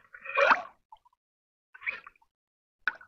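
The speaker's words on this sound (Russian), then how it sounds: "Здесь тушилась морковка с луком. Залил сюда воды." Water poured into a kazan of stewed carrots and onion, giving a loud splashing gurgle at first, then two short, quieter splashes with gaps of silence between them.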